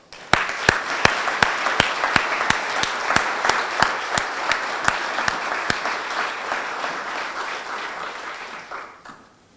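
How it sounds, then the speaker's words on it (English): Audience applauding at a fire department ceremony honouring a cardiac arrest survivor; steady crowd clapping with sharp individual claps standing out, filling the room for about nine seconds before fading. "And a big round of applause for our survivor, Jim Rodriguez."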